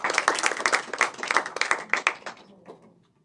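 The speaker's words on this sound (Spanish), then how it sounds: "Un aplauso para el profesor Erly, por favor." An audience at a sociology lecture event applauds a professor being introduced, a dense burst of clapping that holds for a few seconds and then tapers off.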